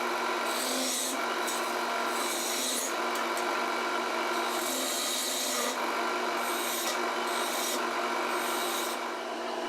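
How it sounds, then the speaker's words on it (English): A wooden table leg spins on a lathe as a gouge cuts a ball and cove, giving a steady, close, continuous scraping rasp with brief lighter and heavier passes, running throughout with no voices. "I found it easier to turn the top ball before turning the cove."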